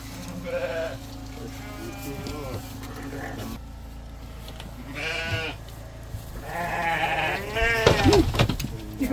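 Sheep bleat repeatedly on a Russian farm, several calls rising and falling between pauses, with ewes that have recently lambed; the bleats come fairly close and loud over steady background noise and some indistinct voices.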